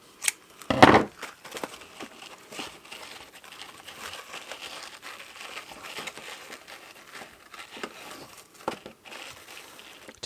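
Crinkly iridescent trim being handled and wrapped around a mistletoe candle box, one sharp rustle near the start and then quiet soft crinkling and light handling noises, close but faint, with no voices.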